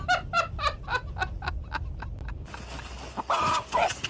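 A frightened chicken, startled by a hawk, clucks in a quick rhythmic run of close, loud calls, then lets out a harsh, sharper squawk near the end.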